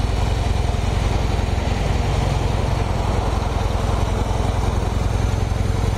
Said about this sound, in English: Factory exhaust runs fairly quiet.